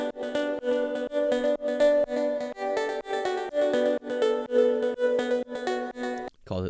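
Synth lead melody shaped by a formant filter with downsample distortion, plus compressor and delay, plays alone as a bright, buzzy line of steady rhythmic notes over a pulsing backing, cutting off abruptly near the end.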